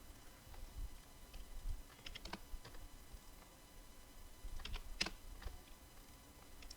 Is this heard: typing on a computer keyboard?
yes